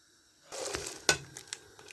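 Sliced onions, four large ones cut lengthwise, tipped into a handi cooking pot for paya, giving a near sizzle and clatter with a sharp metallic clank, then a few lighter scraping knocks.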